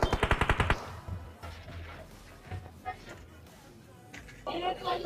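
In the mobile battle royale game PUBG Mobile, a quick burst of gunshots fires at the start, followed by quieter scattered shots and game ambience while a voice talks over the rest.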